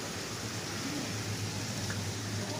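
Heavy rain pouring down during a hail and thunder storm, a dense, steady hiss filling the scene at a constant level without distinct thunder claps.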